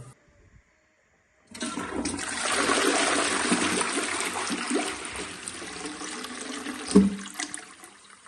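After a moment of near silence, water rushes loudly and steadily into a newly installed toilet cistern once the supply is turned on, a hissing fill that continues at close range with a brief knock partway through; no talking.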